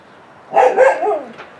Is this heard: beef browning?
no